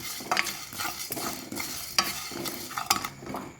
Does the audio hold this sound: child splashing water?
no